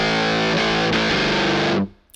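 A distorted electric guitar with a crunchy, amp-like tone plays a few chords that ring out, then cut off abruptly near the end.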